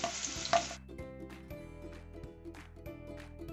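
Cumin seeds with ginger and green chilies hitting hot oil in a kadhai, a soft sizzle and frying crackle close by, with a few light clinks of a stirring utensil.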